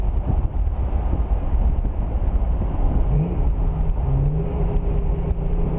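A supercharged 1999 Saleen Mustang's engine drones and revs with rising pitch sweeps while driving, heavy wind rush buffeting the microphone throughout, steady and loud with no talking.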